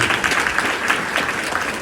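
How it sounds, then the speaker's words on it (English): Wedding reception guests clapping after a best man's toast, a steady burst of applause from a room crowd. "I think we should give Hunter a round of applause."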